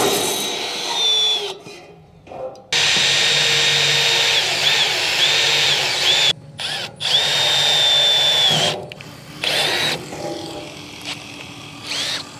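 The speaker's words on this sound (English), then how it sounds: "I'm now going to get my little drill because that will fit in there nice, drill them out" A small electric drill whines loudly in several long bursts, drilling holes for an MCCB panel build, stopping briefly between holes, with a few short pauses and rattles.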